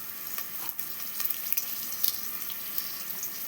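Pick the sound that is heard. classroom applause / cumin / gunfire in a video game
cumin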